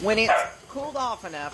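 A dog barks a few times under a person talking nearby, the yaps mixing with the voice.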